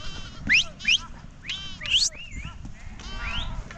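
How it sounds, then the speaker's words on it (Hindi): Sheep bleating along a snowy mountain trail near a high pass, several wavering cries in quick succession, fairly close, over a low rumble of wind and movement. "आ गई भेड़ी भी"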